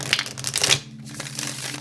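Tarot cards being shuffled by hand, a few quick papery riffling and crinkling bursts close up, then fading into quieter handling.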